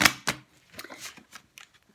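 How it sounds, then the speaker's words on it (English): A deck of reading cards is shuffled up close, with a few quick, crisp riffling bursts followed by softer flicks and taps. "Give the cards a really good shuffle so they give us a very different reading."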